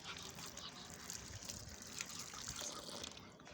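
Running water trickles steadily as food is rinsed lightly under a tap in a home kitchen, a continuous close splashing flow that fills the whole moment without pause.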